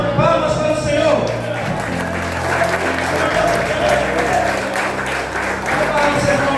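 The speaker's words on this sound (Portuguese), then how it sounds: "Palmas para o Senhor." Congregation applauding in a church during a Sunday worship service, a dense steady wash of clapping from a full room, with music and voices continuing underneath throughout.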